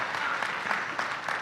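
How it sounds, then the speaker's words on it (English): An audience at a talk by a US senator breaks into brief, moderate applause, a steady patter of clapping hands lasting little more than a second. "You can applaud that"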